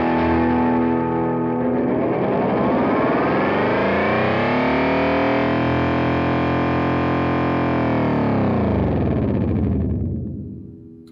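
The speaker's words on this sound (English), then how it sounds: "We're going to self-oscillate this beast here with this twist mode." A Boss RE-202 Space Echo pedal self-oscillating in twist mode, a loud, continuous distorted echo feedback howl that swells and sweeps in pitch, holding dense harmonics for about ten seconds before tapering off, with no talking.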